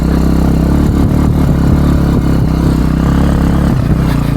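Motorcycle on an off-road ride in the wild country of Crimea, its engine a continuous loud low chugging with rhythmic pulses and rattling clatter from rough ground, close and steady.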